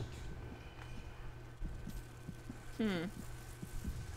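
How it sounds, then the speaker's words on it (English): A slow, steady heartbeat thumps softly under a low hum in Hollow Knight, with a brief tonal game sound partway through. "I hear a heartbeat."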